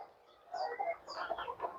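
Chicken clucking on a small farm, a few short close-up clucks and soft throaty calls in quick succession after a brief quiet start, fairly faint and alone.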